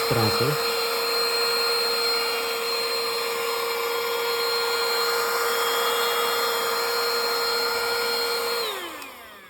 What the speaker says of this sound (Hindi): जो डस्ट वहाँ से उतरेगी वो ये अंदर वैक्यूम क्लीनर जो है वो सक कर लेगा